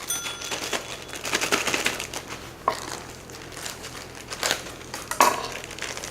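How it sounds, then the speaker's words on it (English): Frozen cranberries tumble into a cooking pot in a rattling, clattering pour, with a few sharp hard clicks as berries hit the pot. "So we can dump these guys right into our pot."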